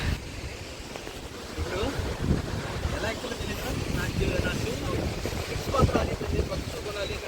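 Strong wind near Taraabu Waterfall roars continuously across the microphone in heavy, rumbling gusts, with no pause for the whole stretch.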